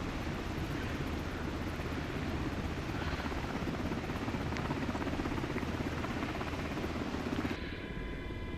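A Sikorsky MH-60 Black Hawk in a flight simulator, flying a firefighting mission over Portugal, gives a loud, continuous rotor-and-turbine drone that thins out abruptly just before the end.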